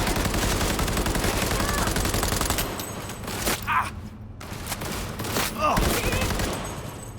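Automatic gunfire in the video game Cyberpunk 2077, dense rapid bursts filling the first few seconds, then scattered shots and pauses with brief game sounds in between.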